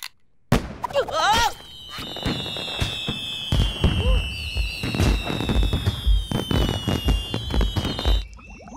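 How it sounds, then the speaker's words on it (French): Cartoon fireworks and rockets go off at a town party: whistling rising shells, a long high whine, and a rapid string of bangs and crackles, busy and loud throughout. "Des feux d'artifice, des fusées"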